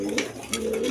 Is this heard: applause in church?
no